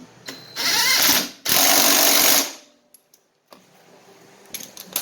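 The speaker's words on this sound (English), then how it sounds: "we're going to ease into it with the wrench" Wrench tightening a threaded pressure washer unloader, two sustained bursts of close ratcheting, whirring mechanical noise separated by a short pause, then quiet small clicks and handling sounds.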